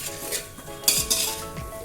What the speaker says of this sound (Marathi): आता हे छान मिक्स करून घ्यायचं आहे आपल्याला हे छान परतून घ्यायचं आहे